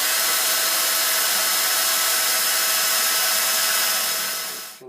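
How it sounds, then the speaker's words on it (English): Loud, steady high-pitched whine of an electric drill boring a hole while building a coin tumbler, running continuously at close range, cutting off abruptly at the end. "So now I'm going to drill the hole."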